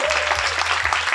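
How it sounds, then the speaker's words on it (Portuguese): Brief burst of audience clapping, dense and steady throughout, loud and close, with no voices over it. "uma salva de palmas para ela"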